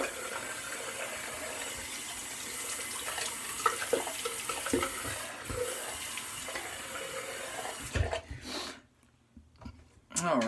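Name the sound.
tap water running for a cold water rinse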